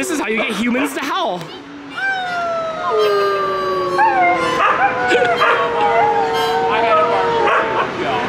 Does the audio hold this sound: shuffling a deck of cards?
no